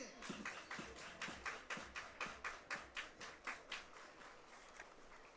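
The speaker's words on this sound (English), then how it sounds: "Everybody clap your hands." Faint rhythmic clapping from a crowd at a summer collegiate baseball game, a dozen or so evenly spaced claps in unison heard from a distance before fading out.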